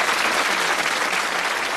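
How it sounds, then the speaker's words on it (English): A studio audience at a British TV game show applauds a contestant, steady dense clapping throughout, loud and close, with no voices over it. "Give him a nice warm round of applause"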